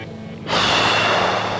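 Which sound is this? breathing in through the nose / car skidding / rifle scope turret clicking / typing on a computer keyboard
breathing in through the nose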